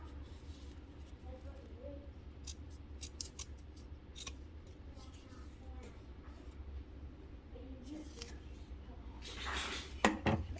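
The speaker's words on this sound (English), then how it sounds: "we can take the vinyl layer above the connector and trim it off on both sides" Scissors snip through the vinyl layer of a sewn backpack in a series of short, crisp cuts, some in quick bursts. A voice talks quietly underneath, and a louder rustle of handling comes near the end.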